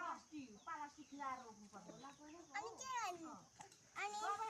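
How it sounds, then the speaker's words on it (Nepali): A rooster clucking repeatedly in short rising and falling bursts, fairly close, with a voice talking nearby. "ऊ त भालेलाई पकडी जा"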